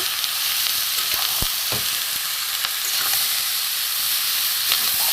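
Panta bhaja, soaked rice frying in a pan, gives off a steady close sizzle and hiss, with a few scraping stirs breaking through the crackle.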